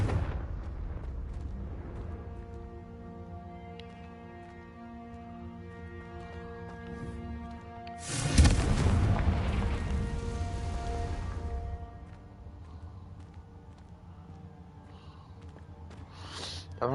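A Confringo blasting spell in a Harry Potter video game bursts midway as a loud rushing blast over the game's background music, then fades back under it.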